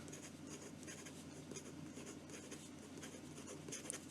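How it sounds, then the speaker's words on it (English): A PenBBS 355 bulkfiller fountain pen with spread tines writes fast on paper, giving a close, continuous scratchy rasp of nib strokes with quick rhythmic variations and no voices. "So fast writing."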